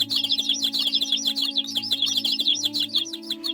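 Small birds chirp and tweet densely and continuously on a bright morning at a riverbank, a lively chorus of quick overlapping calls over a steady low hum.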